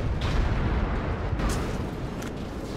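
Rocket explosions in the video game Battlefield Iraq form a continuous rumbling roar of blasts and debris, with a few sharper cracks cutting through a heavy, constant low barrage.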